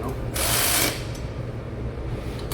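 Bolts being tightened on a Honda GX390 engine during assembly, with one loud, steady burst of a power driver lasting about half a second, followed by quieter clicking and handling of metal parts up close.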